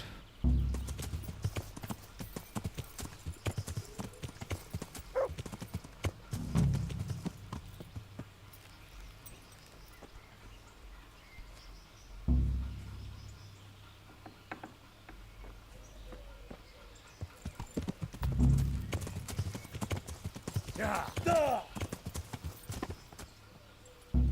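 Horse hooves clip-clop in the medieval game Kingdom Come: Deliverance, a steady close-up walking rhythm continuing throughout, with occasional louder thuds and a brief whinny-like snort near the end.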